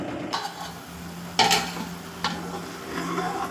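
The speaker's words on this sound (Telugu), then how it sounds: "బాగా కెళ్ళుతుంది కదండి" Okra pulusu, a tamarind-style curry, bubbles on a high flame with a soft steady simmering hiss, broken by a few sharp clinks and scrapes of a utensil against the pot.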